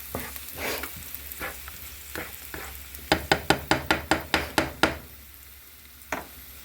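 Breakfast sausage frying with seasonings being stirred in: a soft sizzle under spatula scrapes, then a quick run of about eight sharp, evenly spaced knocks of the utensil against the pan, close by.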